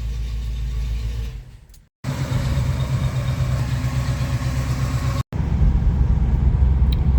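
A 1968 Pontiac Firebird's engine drones steadily while cruising down the road, loud and close, with two brief dropouts in the sound.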